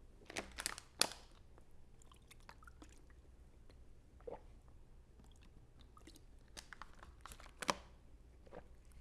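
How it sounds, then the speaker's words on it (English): Someone chewing tacos and sausage close to the mic, wet crunching bites in small bursts with quiet pauses between, no talking. "I am munching on tacos"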